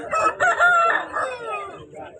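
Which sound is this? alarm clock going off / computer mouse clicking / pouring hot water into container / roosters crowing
roosters crowing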